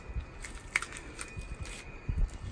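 Someone bites into crunchy fry bread topped with tomatoes, cheese and sour cream, giving several close, quiet crackling crunches and chewing sounds with no talking.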